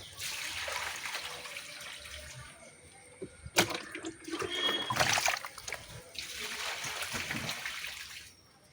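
Water splashing and trickling as a gourami fish is released into a tank, with broadband sloshing bursts rising and falling across the clip and a sharper splash midway.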